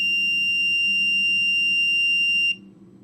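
A Digispark microcontroller beeper gives one sustained, shrill electronic tone for about two and a half seconds and then cuts off abruptly, loud and close.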